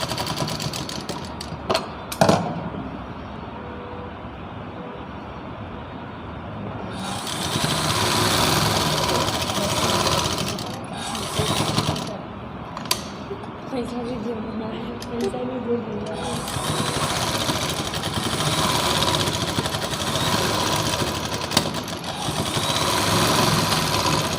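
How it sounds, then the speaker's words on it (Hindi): A domestic sewing machine runs a long steady whirring seam, joining a folded strip on a women's suit top. The motor hums close and continuous through most of the stretch while someone talks over it. "तो मैं इस पर एक सिलाई लगा के इसको जॉइंट कर देती हूँ।"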